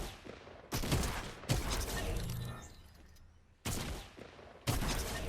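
Shotgun blasts in a first-person shooter game during aim training, several loud booming shots at irregular intervals, each with a ringing tail that fades before the next.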